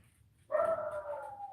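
A thin dog gives a single drawn-out whine or yelp, fairly close, sustained for about a second after a brief quiet pause, with no talking.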